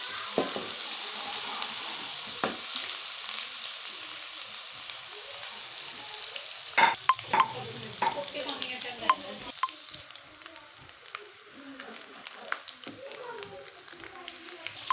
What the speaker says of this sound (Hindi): ये लहसुन डाल दिया मैंने और इसे अच्छी तरह से करेंगे फ्राई